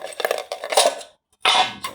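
A quartz stone dropped onto a hard surface, giving a few bright clattering knocks that ring briefly, a short silence, then another loud clinking impact, close by and without voices.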